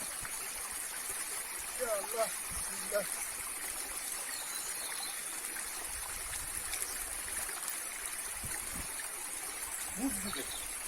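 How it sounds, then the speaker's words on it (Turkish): Cold stream water flows steadily past a field in forest near Balıkesir, a constant close rushing hiss with faint voices and a few brief outdoor sounds over it. "Bu su burada yaz kış akıyormuş."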